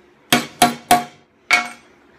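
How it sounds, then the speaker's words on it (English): A hammer strikes a center punch on metal: three sharp metallic taps in quick succession, a short pause, then a fourth tap, each ringing briefly in a quiet room. "what you're going to do is you're just going to center punch that."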